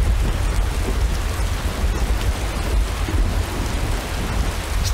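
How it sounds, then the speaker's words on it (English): Heavy rain in a video game pours down with a deep, rumbling low roar like distant thunder underneath, loud and constant for the whole stretch. "Still raining."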